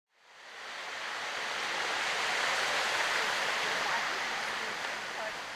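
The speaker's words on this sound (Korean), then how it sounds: "시원한 계곡 물소리와 함께 산책길에 나섰다." Steady rushing water fills the scene, a constant broadband flow that fades in and then holds evenly, like a nearby mountain stream.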